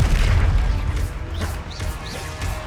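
A Confringo blasting spell from Hogwarts Legacy on PS5 explodes with a heavy, booming crash, and a dense rumbling roar carries through the whole short burst along with a few whooshing effects.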